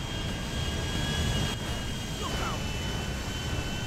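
Steady airplane engine drone in GTA 5 as a plane approaches down the runway, a continuous broad roar with a faint whine, fairly loud throughout and with no talking.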